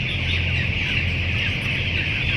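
Broiler chickens clucking inside a cool poultry shed, a continuous dense murmur of many birds with a steady bright chorus and low background hum, no talking.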